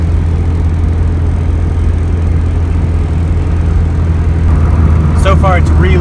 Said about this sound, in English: we're gonna get up to some highway speeds and just kind of cruise and see how it does